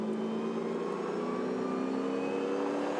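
Muscle cars race at the Pukekohe circuit with a continuous, steady engine drone and a slight rise and fall in pitch as the pack holds speed, heard from a distance with no voices.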